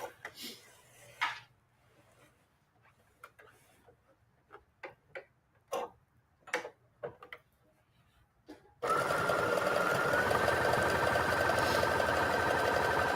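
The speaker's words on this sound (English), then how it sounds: "guiding the fabric and trying to separate any wrinkles as the sewing machine is going" A sewing machine stitches a patchwork of fabric and old denim. Sparse ticks and clicks come first, then the motor starts and runs in a loud, continuous whir. Someone talks faintly over the opening clicks.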